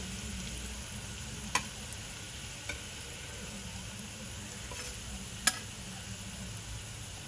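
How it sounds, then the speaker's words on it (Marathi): Drumstick-leaf vadi fry in a pan with a steady, soft, even sizzle, broken by a few faint clicks and taps of a utensil, no voices over it. "दुसऱ्या बाजूने पण आपण 2 मिनिटं शेकून घेऊया."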